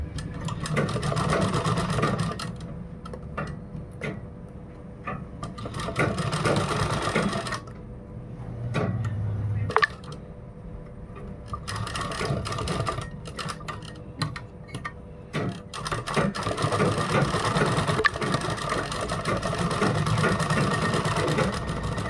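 An electric sewing machine runs a seam along folded kurta fabric in long whirring stretches broken by short pauses and clicks, loud and close, with no talking.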